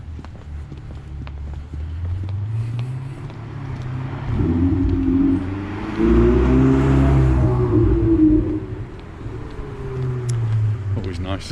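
A Ferrari sports car pulls out at a marina in Puerto Portals, its engine swelling and revving as it drives past, then easing off, with footsteps and a voice speaking over it.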